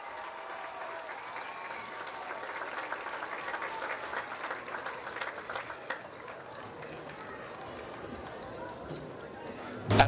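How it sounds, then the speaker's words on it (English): Crowd applause at a high school football game during a homecoming queen and court presentation, a steady wash of distant clapping and cheering across the stands that fades toward the end. "Let's give the queen and her court a big round of applause."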